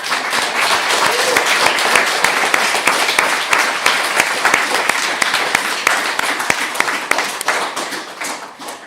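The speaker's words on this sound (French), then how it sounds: "ça mérite une deuxième, mais plus grosse main d'applaudissements" An audience gives a large round of applause at a modest gathering honouring employers who give students their first work experience. Dense, close clapping runs steadily and then tapers off at the end.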